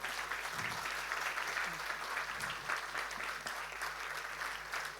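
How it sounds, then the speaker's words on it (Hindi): Audience at a staged storytelling and music performance about Guru Dutt's life and songs, clapping steadily throughout, a dense, continuous wash of applause in a hall with faint voices underneath. "तालियां कम लग रही हैं मुझे."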